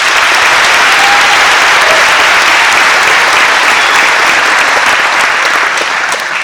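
Loud, dense applause from a graduation ceremony crowd celebrating the Meadows School class of 2019, a steady unbroken wash of clapping that fills the whole stretch and eases only slightly near the end.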